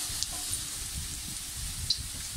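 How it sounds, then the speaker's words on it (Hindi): Onions frying and browning in a pan for spicy chicken biryani give off a steady, close sizzle with faint crackles and a few brief pops, heard alone without talk. "देखिए मेरी प्याज हो गई है ब्राउन।"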